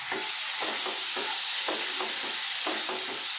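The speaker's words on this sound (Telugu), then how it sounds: "ఇప్పుడు మనం ఆల్రెడీ మిక్సీ చేసుకున్నది ఉంది కదా అది ఇందులో వేసుకొని నూనె ఉడికించుకోవాలి" Ground coriander paste for chutney fries in tempered oil with a constant close hiss, while a spoon scrapes and stirs through it in regular, repeated strokes.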